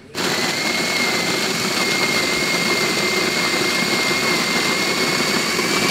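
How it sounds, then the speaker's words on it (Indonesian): An automatic Hario V60 coffee grinder grinding beans, a loud continuous motor whir with a steady high whine that starts abruptly and runs without pause, close to the microphone. "Taruh tangkinya aja di sini, dia langsung menggiling sendiri. Otomatis."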